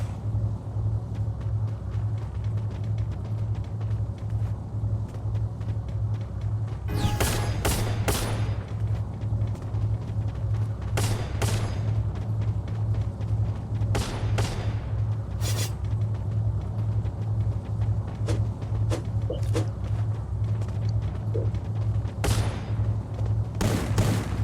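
MP40 submachine gun fire in the mobile battle royale Free Fire, several short sharp bursts of rapid shots spread over time, cutting through a steady low droning game background.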